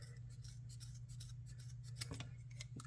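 Scissors snipping through dyed leather for a holster, a quick series of close, crisp cutting strokes over a steady low hum.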